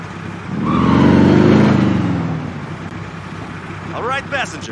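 Car engine in Call of Duty Warzone, a rumbling drone that swells and fades as the vehicle moves off, with voices talking over it near the end.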